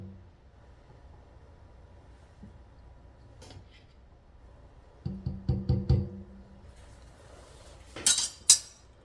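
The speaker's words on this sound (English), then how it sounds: "got my jar funnel, put it here. And I'm gonna use my ladle spoon" A ladle and jar funnel used to fill a glass jar with homemade pear preserves: quiet at first, then a cluster of close clinks and knocks of metal on glass, with a couple of sharper taps near the end.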